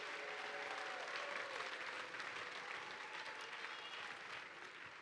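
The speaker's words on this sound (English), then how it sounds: "Give a nice round of applause for your DTE Key volunteers." Applause fills an arena for the volunteers at a FIRST robotics state championship in Michigan. A dense crowd claps continuously and evenly, heard from a distance and fairly faint.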